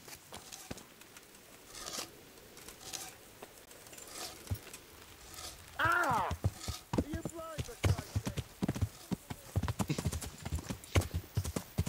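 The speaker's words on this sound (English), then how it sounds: "So let's call our horse." Horse hooves clip-clopping in the video game Kingdom Come: Deliverance, a rhythmic run of hoofbeats that starts after a few seconds and continues steadily, moderately close, with a faint whinny.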